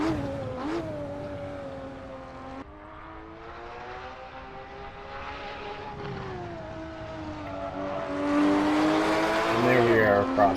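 Porsche Cayman GT4 race car engine in Assetto Corsa, a steady high-revving drone with harmonic whine rising near the end as the car pushes hard down a long straight, loud and continuous.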